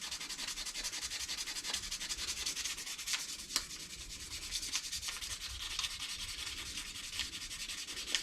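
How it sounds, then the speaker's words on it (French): Continuous dry sanding on the painted frame of a child's bicycle, a steady close rasping scrub with faint periodic taps, with no voices. "quand je vais poncer à sec"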